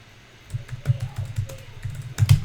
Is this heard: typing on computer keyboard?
yes